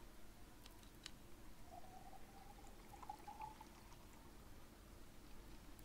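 Water trickles quietly into a bottle being refilled in the video game Desolate, a faint, steady pour over a low background hum.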